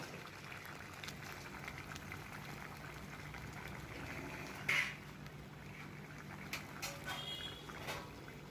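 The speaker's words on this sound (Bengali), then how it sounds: "তো দেখো ভালো মতো ফুটে গেল।" Rui fish curry simmering in a pot, a soft steady bubbling of liquid with occasional small pops, quiet and close, with no talking.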